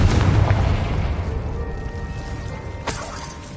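Confringo spell blasts from the video game Hogwarts Legacy land with a heavy boom and shattering burst at the start that decays slowly, then a second sharp crack near the end.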